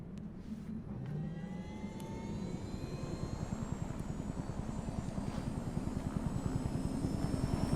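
Helicopter in Far Cry 4 flying, its rotor giving a rapid chopping thump that grows steadily louder and closer, with a whining turbine tone above it and no speech.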